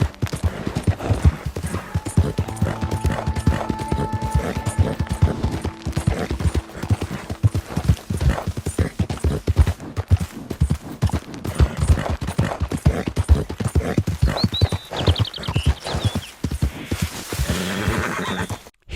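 Red Chestnut Arabian horse galloping in a video game, steady rapid hoofbeats pounding throughout with a couple of whinnies and neighs over game music, close and loud.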